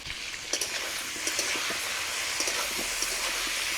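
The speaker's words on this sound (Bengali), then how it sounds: "আলুগুলোকে লাল করে কষিয়ে নেব।" Potatoes frying in mustard oil in a wok, a steady broad sizzle with small crackles and pops, close and continuous throughout, no voices.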